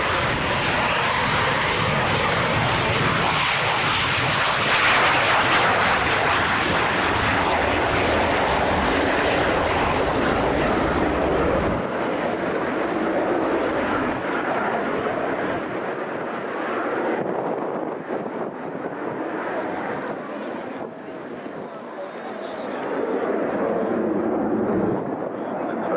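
A Spanish Navy EAV-8B Matador Harrier jet roars loudly through a flying display in the rain at RIAT 2023, its broad engine noise peaking close by early on and then fading gradually to a distant rumble.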